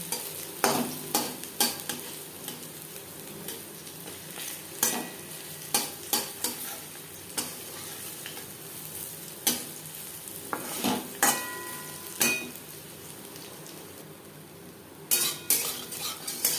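Masoor dal fritters sputter in oil while a spatula turns them, so a continuous sizzle runs under repeated sharp metallic scrapes and taps against the pan.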